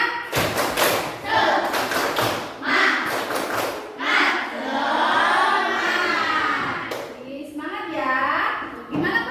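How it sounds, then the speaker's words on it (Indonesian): Children in an Indonesian classroom chant and clap the 'tepuk semangat' spirit routine together, sharp bursts of claps in quick rhythmic groups alternating with loud group shouting, close and lively. "Tepuk semangat."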